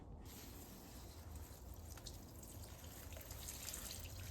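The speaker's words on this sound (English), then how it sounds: "So I'm gonna go ahead and water her." An indoor potted plant being watered, a soft, continuous trickle and patter of water into soil, faint and steady with light drips.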